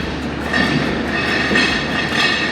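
Dhumketu Express train on the Dhaka to Rajshahi route rolls past Ibrahimabad station in Tangail, a steady close rumble with faint rhythmic wheel clatter and no voices.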